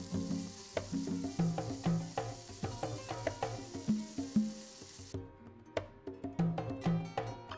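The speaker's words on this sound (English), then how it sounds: "And the onion and garlic go in first. So I'll fry this until it's brown." Onion and garlic fry in butter in a hot pan, with repeated stirring scrapes and taps over a gentle sizzle that fades out briefly before the stirring resumes.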